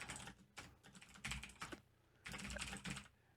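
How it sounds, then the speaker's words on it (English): Typing on a computer keyboard during an MMO game session, close clacking key bursts in quick runs separated by brief pauses, fairly quiet overall. "Oh no. I'm typing."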